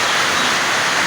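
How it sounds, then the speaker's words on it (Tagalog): Rainwater pours from a nailed galvanized iron roof gutter in a loud, continuous hissing rush with no breaks. "yung pako nandyan, pinako sa may kanal ng yero kaya tumutulo"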